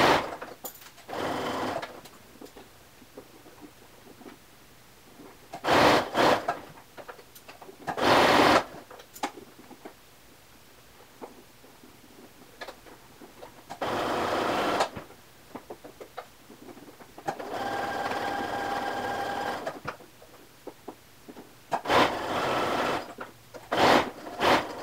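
A sewing machine stitches the seam of a men's shirt in several separate bursts of rapid, buzzing mechanical chatter, with quiet pauses between runs and some soft handling noise.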